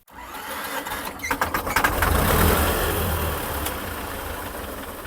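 A T-40 tractor engine cranks with quick chugging pulses, then catches and settles into a rough, loud diesel running rumble close by.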